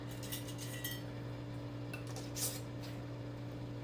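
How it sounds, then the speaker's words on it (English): A boiled canning lid set onto a jar of home-canned peach pie filling, with a few light metallic clicks and clinks over a steady background hum, close and fairly quiet, no talking. "My lids are already boiled over here. Put the lid on."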